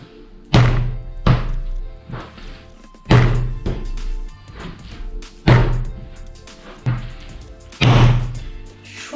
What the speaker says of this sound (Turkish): Vuruyorum ve katlıyorum.